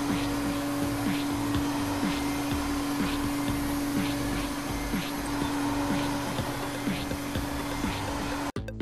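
Cartoon effect of air blowing dirt off a dirty asphalt paver: a steady, loud whooshing blast like a vacuum or blower that holds for the whole length, with small repeated puffs riding on it, then cuts off abruptly near the end.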